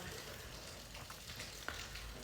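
Fenugreek and fennel seeds crackling in a few teaspoons of hot coconut oil in a clay pot, a faint steady hiss with scattered small pops and one brighter spit.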